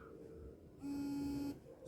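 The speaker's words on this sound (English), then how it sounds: "Okay, let's call via the WhatsApp application. So it's now ringing." A smartwatch rings for an incoming WhatsApp call, giving a steady electronic buzzing tone that holds for under a second, close and fairly quiet, with no talking.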